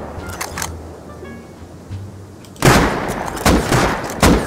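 Gunfire in the survival game Rust: after a quiet stretch with faint distant pops, a loud volley of close shots erupts and repeats in several sharp bursts.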